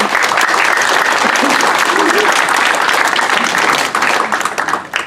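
Loud, full applause from a packed forum audience at a reunification event, honouring a chairman; dense clapping holds steady, then thins and fades near the end.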